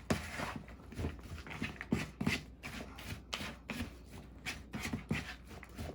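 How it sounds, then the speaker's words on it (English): Charoset ingredients are mixed in a bowl with a utensil, making soft, irregular scraping and thumping strokes up close at low volume, with no talking. "So what you do is you go ahead and you mix it up."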